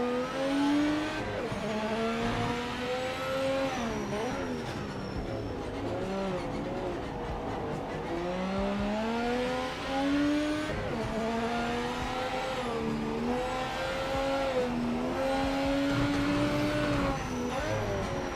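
Race car engines rev and whine through shifting gears in a racing video game, with rising and falling pitches, occasional tyre squeal and skids, loud and continuous with no talk.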